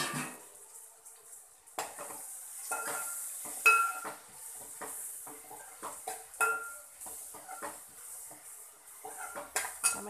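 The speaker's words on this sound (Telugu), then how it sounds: "ఇప్పుడు టమాటో వేసుకుంటున్నాను." Tomatoes frying in a pan for a drumstick and potato curry, with a soft sizzle under frequent clinks and scrapes of a metal spoon stirring against the pan, close by.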